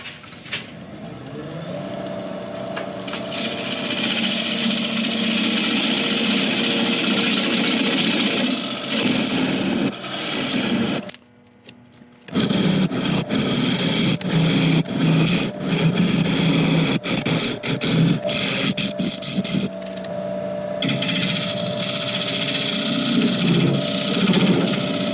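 A very hard apple wood log is turned on a lathe to shape its base, a steady, loud whirring rumble of the spinning wood with scraping tool contact, broken by a brief pause before the cutting resumes.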